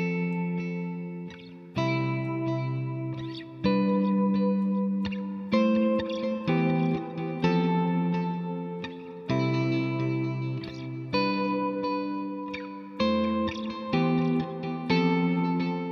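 An electric guitar runs through a Line 6 HX Stomp with reverb switched on, playing sustained, distorted chords that ring loudly and decay in a long wash, changing roughly every two seconds.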